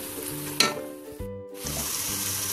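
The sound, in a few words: sautéing crushed green chilli with onion for biryani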